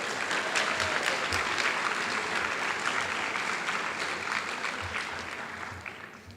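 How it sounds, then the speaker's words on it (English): Audience applause at a high school senior recognition ceremony, steady dense clapping from a large crowd that holds through most of the stretch and thins slightly near the end. "So could we give them a round of applause"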